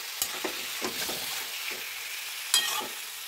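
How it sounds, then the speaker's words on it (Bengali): Boiled bottle gourd greens fry in a pan with a close, soft continuous sizzle, broken by several scraping stirs and light utensil taps, with one sharper clink near the end. "এবার শাকটাকে দিয়ে দিলাম। এবার এটাকে ভেজে নিতে হবে।"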